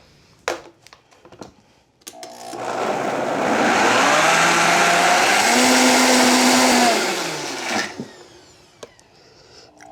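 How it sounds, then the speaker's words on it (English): A blender purees a creamy sauce spiced with chili powder, turmeric, paprika and salt, starting after a few clicks and handling noises into a loud steady motor roar for about six seconds, then winding down to quiet knocks. "Okay, I'm gonna add a little pinch of salt and we're gonna blend."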